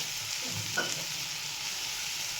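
Onion frying in a pan for a kanda tomato chutney as tomato is about to go in, a steady soft sizzle with a brief stir or scrape near the start, close and moderately loud, no talking.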